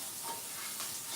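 Onion and carrot sizzling in a pan while being stirred, an even, faint frying hiss with soft movement, no talking.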